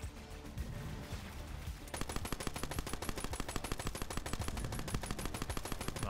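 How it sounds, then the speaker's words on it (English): Assault rifle fire in Borderlands 3: after a couple of seconds of game noise, rapid sustained automatic bursts crack loudly and evenly, a dense continuous stream of shots with no talking. "We haven't even used this new assault rifle."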